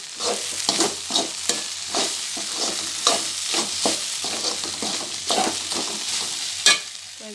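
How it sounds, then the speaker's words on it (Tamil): Okra stirred in a frying pan, a spatula scraping in repeated strokes over a steady oily sizzle, close and fairly loud with no talking. "வெண்டைக்காய் அப்பப்போ பார்த்து கிளறி விட்டுக்கிடணும், ஏன்னா கீழே வந்து பிடிச்சிடும், அடி பிடிச்சிடும்."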